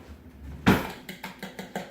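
Utensils scrape and clink against a bowl in a short burst of stirring, close and fairly quiet, with a sharp knock near the start.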